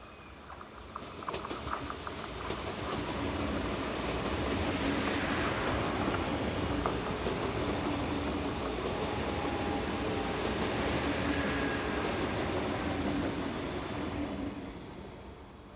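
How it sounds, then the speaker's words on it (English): An intercity train from Frankfurt to Dresden rushes past, a broad roaring rumble that swells quickly, holds loud and steady for many seconds, then begins to fade. "Four 11004 comes into view, forming the 1101 from Frankfurt to Dresden."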